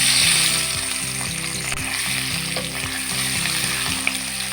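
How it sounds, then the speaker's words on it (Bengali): Baby potatoes frying in hot mustard oil in a home kitchen, giving a steady, close sizzle with a low rhythmic hum and an occasional sharp pop, no talking. "এবার আমি আলুগুলো ভেজে নিচ্ছি।"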